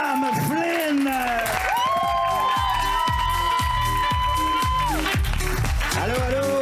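A comedy show audience claps and cheers as the final comedian comes on stage, with sustained applause, whoops and shouting, while music with a steady pulsing beat plays through.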